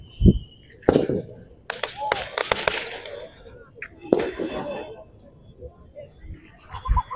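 A string of rope bomb firecrackers pops and cracks in sharp irregular bursts, some in quick clusters, loud and nearby, with quieter gaps between the blasts, at a Diwali celebration in Shivaji Park, Dadar.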